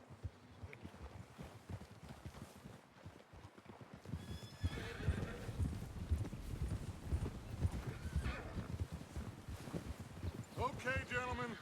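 Horses ridden out in the video game Red Dead Redemption 2, with steady clip-clop hooves and whinnies over game ambience, growing busier partway through, with brief voices mixed in.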